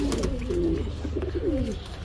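Soft pigeon cooing, a couple of low throaty rolling calls close by over a faint background hum.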